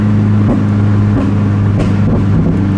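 Porsche GT3 exhaust burbling loudly up close, with a steady low engine drone broken by several sharp pops and crackles at irregular intervals.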